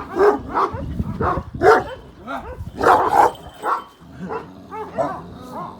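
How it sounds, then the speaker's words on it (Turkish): A dog barks repeatedly in loud, close bursts, with some whimpering yips between barks. "Bayağı güçlü köpek belli"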